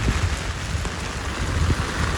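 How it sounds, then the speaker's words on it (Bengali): Heavy rain near the Sundarbans coast, a dense steady wash of downpour with low rumbling pattering, close and continuous. "বৃষ্টি, ওরে বৃষ্টি, ওরে বৃষ্টি খাইছে আমারে।"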